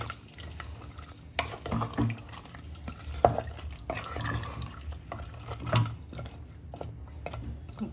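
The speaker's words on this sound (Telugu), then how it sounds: "ఇలా చింతపండు పులుసు వేసుకున్న తర్వాత మళ్ళీ ఒకసారి కలుపుకోవాలి మొత్తం." Tamarind sauce is stirred into a goat head curry in a pot, making soft wet scraping and liquid squelches with a few sharper clinks of the spoon against the vessel, fairly close but quiet.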